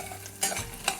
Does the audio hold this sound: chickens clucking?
no